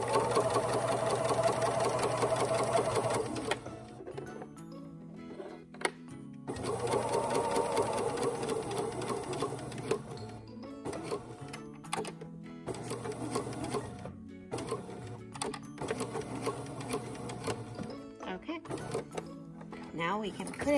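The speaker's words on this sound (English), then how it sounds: "I am gonna wanna back stitch this, so I hold my tails as I start." A sewing machine stitches fabric in short whirring runs broken by pauses as it backstitches, the motor starting and stopping several times while someone talks quietly in between.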